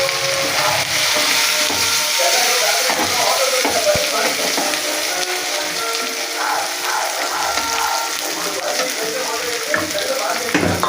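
Prawns frying in a pan with onion paste, giving a loud, continuous close sizzle with occasional stirring scrapes throughout.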